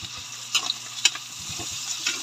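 Onions sautéing in a hot pan during home cooking, with faint steady sizzle and a few soft stirring clatters of a utensil against the pan, no talk.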